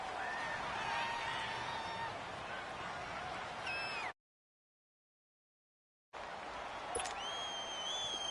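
Stadium crowd noise in a football video game on PS4: a sustained roar from the home crowd under a voice talking, cut by a two-second gap of silence before it resumes.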